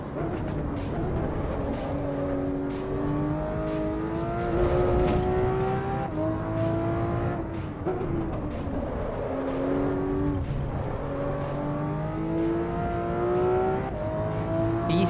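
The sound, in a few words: Volvo S60R engine in racing simulator video game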